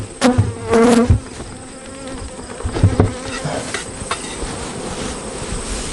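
Honey bees swarm around opened hives during a honey harvest, a droning buzz close by that swells in short louder bursts over a steady background hum.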